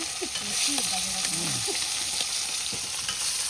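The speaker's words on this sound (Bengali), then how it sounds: "কান মাছ কিন্তু ভাজা হয়ে গেছে এখানে" Sea kai fish frying in a pan at an outdoor riverside picnic in the Sundarbans, giving a steady, close sizzle with scattered crackles and faint activity in the background.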